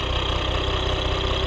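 An off-road 4x4 vehicle's engine idles steadily with a low, even rumble and light vibration, close by and continuous throughout, with no talking.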